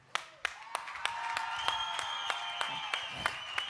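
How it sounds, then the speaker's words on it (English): An audience claps to welcome a guest onto the stage, sharp evenly spaced hand claps set against a sustained tonal backdrop, fairly quiet and at a distance. "please, with your heart and applause, please welcome Tim Ballard"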